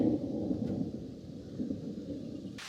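Thunder from a passing thunderstorm rolls as a low continuous rumble on a forest trail, with steady rain hiss and no voices.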